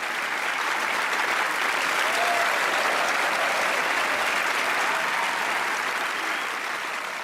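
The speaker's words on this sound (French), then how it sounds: "Vous pouvez vous applaudir." Sustained, even applause from the audience at a model contest finale, a full dense wash of clapping holding steady throughout before easing slightly at the end.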